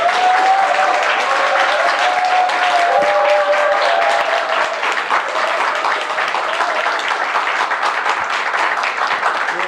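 Steady, full applause from an audience at a community book-concert talk show, continuous and even throughout with a thick wash of many hands clapping.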